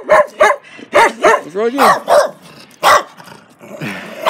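A big dog of about twelve barks and growls in play, loud and close, with a string of sharp barks and low growls in uneven bursts while a person speaks briefly.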